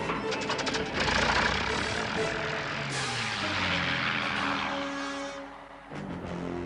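Prince's airplane flying in an Italian-dubbed animated cartoon, a loud continuous engine roar that swells and shifts pitch, with music and voices mixed underneath.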